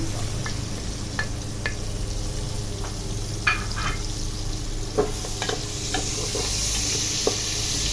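Onion and bay leaves sautéing in a pan for pork calderita, a steady close sizzle under scattered stirring clicks and scrapes, no voices.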